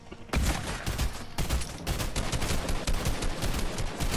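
Assault rifle fire in a team shooter video game: dense, rapid bursts of automatic shots, loud and close, continuing through the whole moment.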